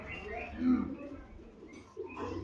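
Lal Chini pigeons coo low and throaty at close range in a short burst, with softer murmuring and faint bird chirps around them.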